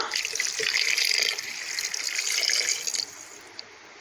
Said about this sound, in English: I will put in a glass of water.